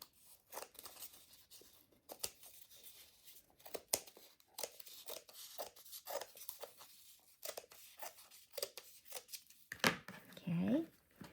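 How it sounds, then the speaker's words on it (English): Scissors snip and crunch through scrap fabric around a craft Easter egg, with repeated short cuts and pauses, close by, alongside some handling noise and a faint voice. "cut off all this excess fabric"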